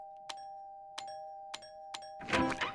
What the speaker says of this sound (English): I think your doorbell's broken, Squidward.